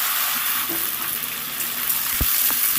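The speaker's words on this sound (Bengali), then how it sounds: "আলুগুলো তেলে দিয়ে সুন্দর করে ভেজে নিতে হবে" Long-cut potatoes frying in hot oil, a steady close sizzle filling the whole stretch, with a couple of brief clicks near the end as the pan is stirred.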